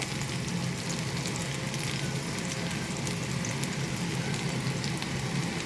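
Cabbage fries in a pan with tomatoes, giving a continuous, even sizzle. The crackle stays close and steady from start to finish, with no talking over it.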